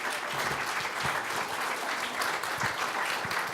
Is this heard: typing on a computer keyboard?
no